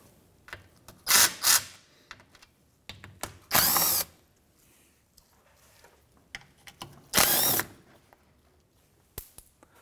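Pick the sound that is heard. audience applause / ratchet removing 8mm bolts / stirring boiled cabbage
ratchet removing 8mm bolts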